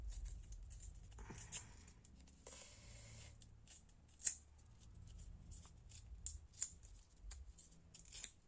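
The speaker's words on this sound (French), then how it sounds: "recouper mon papier" Paper being trimmed with scissors during a foam-stamp craft session, a few quiet snips and sharp clicks scattered over soft rustling and handling noise, close and faint, with no talking.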